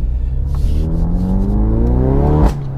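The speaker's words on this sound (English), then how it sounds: "Such a deep sort of rasp to it when you come on the accelerator, and the pops and bangs" A car fitted with a Scorpion aftermarket exhaust revs up with a deep, raspy note, engine pitch climbing steadily for about two seconds before a sharp burst and drop as the throttle lifts; loud and close, no talking.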